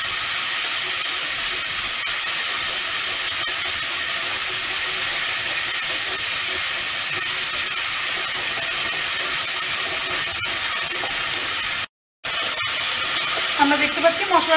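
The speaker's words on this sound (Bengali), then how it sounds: "এবার মশলাটা ভালো করে কষিয়ে নেব" Ginger-garlic paste with a spoonful of tomato frying in a pan for potato dum, a steady close hiss and sizzle that runs unbroken, dropping out for a moment near the end.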